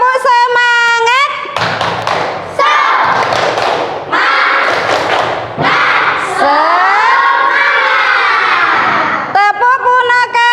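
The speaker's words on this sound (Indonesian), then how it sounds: "Ayo lagi, tepuk semangat." Classroom of children doing a rhythmic 'tepuk semangat' clapping chant, loud group shouting in bursts punctuated by sharp thumping claps, with pauses between phrases and a sung tonal passage at start and end.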